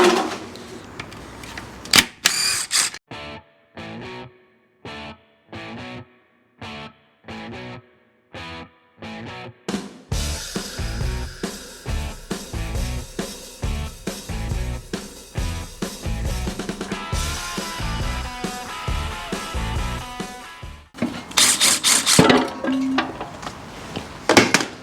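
Bolts coming off the oil pan of an LS engine in a hot rod build: a run of short, spaced metallic ratchet clicks and clanks, then a longer busy stretch of wrenching and tool rattles, close up with no talking.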